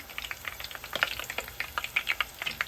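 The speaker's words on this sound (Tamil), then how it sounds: "இன்னும் பொன்னிறமாயும் இந்த வெண்டிக்காய் பொறிச்செடுக்கலாம்" Okra fries in hot oil, a dense crackling sizzle of quick popping bursts that carries on steadily at close range with no voices.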